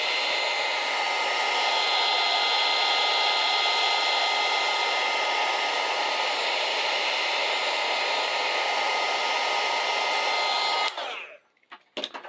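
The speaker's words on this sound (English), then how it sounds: "I'm going to hit it with the heat." A heat gun blows steadily on a twisted joint of Teflon-coated wire during lightsaber switch wiring, producing a loud, even rushing hiss that holds for about eleven seconds and then cuts off abruptly, leaving a few faint handling sounds.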